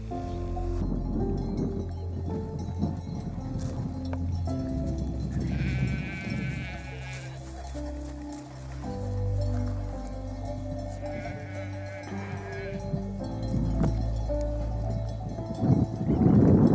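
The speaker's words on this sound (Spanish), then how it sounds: "Las ovejas están bebiendo en la charca de la pradera del Rincón." Sheep bleat repeatedly while drinking at a meadow pond, their calls rising over one another amid steady outdoor background noise, with a few brief louder bleats nearby.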